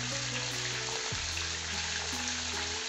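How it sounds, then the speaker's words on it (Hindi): Meat sizzling steadily in a pot over high heat while browning for a mixed vegetable pulao, a close, continuous frying hiss with a faint low hum underneath and no talking. "और तेज आंच पे ये फ्राई करना है,"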